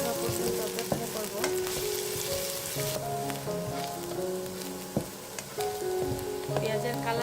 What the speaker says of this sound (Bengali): এখানে দিয়ে দিচ্ছি হাফ কাপের মতো পেঁয়াজ কুচি, দিয়ে এটাকে নেড়ে চেড়ে নেব।